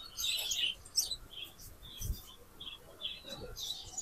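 Caged birds at a Kuwait bird market give scattered high chirps and short trills, irregular and fairly faint, with a low thump partway through.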